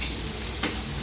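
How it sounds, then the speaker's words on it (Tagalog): Chopped tomatoes being stirred as they sauté in a home cooking pan, a steady close sizzle with one brief scraping stir partway through, no voices. "Haluin mo."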